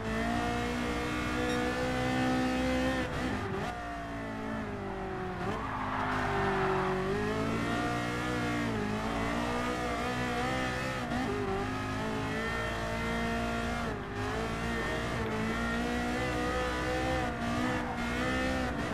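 Ferrari GTO '84 racing in Gran Turismo Sport on PS4 Pro, a steady close engine drone that rises and falls with gear changes and throttle, heard alone without talk.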